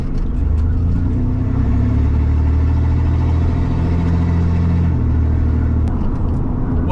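A Chevy S10 pickup truck with a cheap side-exit straight-pipe exhaust cruises at speed. The engine drone is steady and fairly loud, low and mid-pitched, with wind and road noise inside the cab and no voices.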